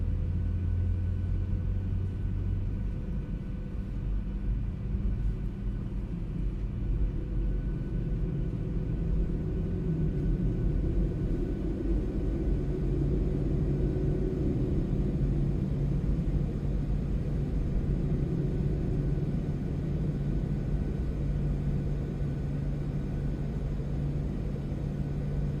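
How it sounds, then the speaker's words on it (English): Steady low rumble and whine of a PMDG 737 airliner's engines in Microsoft Flight Simulator with Boris sounds, heard from outside the aircraft at a constant, moderately loud level with no talking. "I think to hear the engine sounds, you want to be outside the aircraft."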